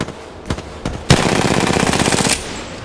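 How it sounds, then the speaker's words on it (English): Gunfire in Apex Legends: a couple of single shots, then a rapid automatic burst of evenly spaced rounds lasting over a second, loud and close, with no talk. "Firing. Reloading."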